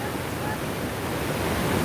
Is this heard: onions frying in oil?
no